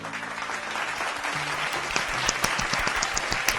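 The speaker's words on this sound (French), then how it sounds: "Tout le monde l'applaudit dans la classe" A small classroom group claps together, starting loosely and building into a mix of individual claps over a low hum of room noise, without any speech.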